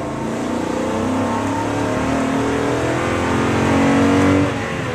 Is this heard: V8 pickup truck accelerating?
yes